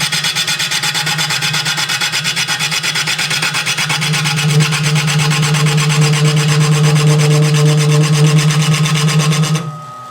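Steady rasping, scraping drone of a wood lathe turning a Queen Anne side table part, with a low humming vibration as the piece thins that swells midway before cutting off near the end.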